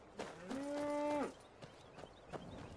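A cow in Skyrim gives one drawn-out moo lasting under a second, moderately near, followed by faint footsteps and quiet ambient game sounds.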